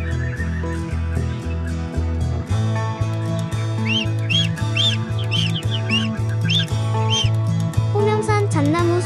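Birds singing in a Korean pine forest at Homyeongsan, repeated chirping calls over a steady low tonal background, moderately loud and continuous.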